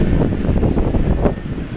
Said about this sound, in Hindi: बहुत ज्यादा ही तेज हवाएं स्टार्ट हो गई है।